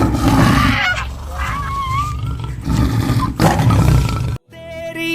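A tiger's loud, drawn-out roar dominates for several seconds with harmonic tones overhead, then cuts off abruptly before a brief trailing bit of music.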